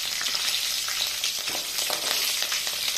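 Ginger with green and dried red chillies fries in hot oil in a bright, continuous sizzle. Light stirring crackles sit close and steady over the whole stretch.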